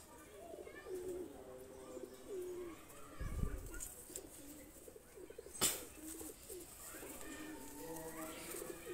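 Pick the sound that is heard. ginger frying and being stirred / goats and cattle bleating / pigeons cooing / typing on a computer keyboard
pigeons cooing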